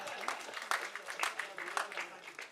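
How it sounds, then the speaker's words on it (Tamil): Audience applause at a film audio and trailer launch event for the movie Pulse, a steady crackle of clapping from a crowd that swells in repeated bursts over a few seconds. "தயவு செஞ்சு நீங்களே ஒரு தடவை கைத்தட்டிடுங்க"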